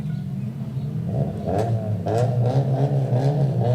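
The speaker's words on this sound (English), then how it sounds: "they're sitting there revving the engines too" Several car engines revving at a July 4th Liberation Day parade, repeated bursts of throttle over a steady idling rumble, fairly close and loud.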